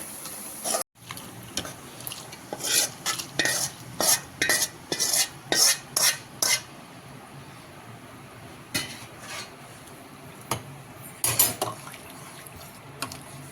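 Raisins sizzle in hot payasam of chenga pappu and saggubiyyam after the gas is switched off, while a spoon scrapes and clinks against the pan in a steady run of sharp strokes that fade to scattered knocks.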